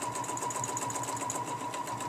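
A sewing machine runs steadily in fast, even stitching while free motion quilting a loop pattern along a ruler, the motor hum and needle chatter close and continuous with no speech.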